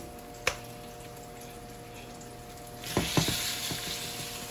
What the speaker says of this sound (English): oil hot, vegetables over there sauteed up